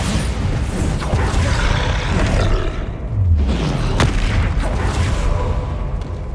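Bombarda spell explosion in Hogwarts Legacy during a mountain troll fight, a loud booming blast with a low rumbling sweep around the middle, set in continuous dense roaring game-combat noise.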